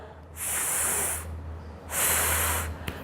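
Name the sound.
voice imitating the letter F sound, a hissing ffff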